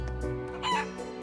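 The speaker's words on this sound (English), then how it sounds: "Chicken." A chicken in Trails of Cold Steel IV gives a brief cluck over calm, tonal background music that plays throughout.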